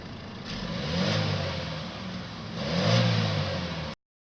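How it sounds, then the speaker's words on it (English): A 2019 Chevrolet Equinox Premier's turbocharged four-cylinder engine revs twice through its exhaust, climbing and settling each time before cutting off abruptly near the end. "And now for the exhaust note."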